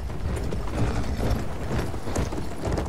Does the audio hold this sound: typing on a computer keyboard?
no